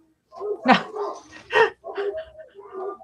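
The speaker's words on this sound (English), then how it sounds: "Thanks for hanging in with the barking and the insanity." A puppy barks and yips nearby in a string of sharp, high barks with short gaps between them, some ending in a whiny tone.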